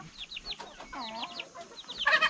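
Black-bone chickens at a Hmong village farm in Laos cluck close by in quick bursts of short, rising calls, with a denser flurry of clucking at the end.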